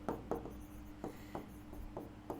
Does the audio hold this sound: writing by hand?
yes